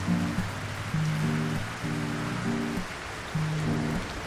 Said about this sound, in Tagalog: Kakainis naman, tagal tumila ng ulan.